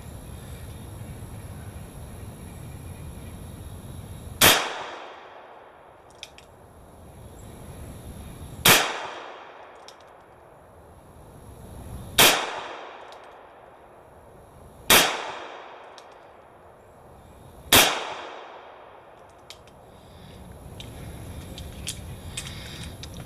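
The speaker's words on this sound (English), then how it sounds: "we're going to fire off 5 rounds and we're going to see how it does" Five loud, sharp revolver shots from a Ruger LCRx in .38 Special +P, spaced about three to four seconds apart, each with a quick ringing decay, over a quiet outdoor background.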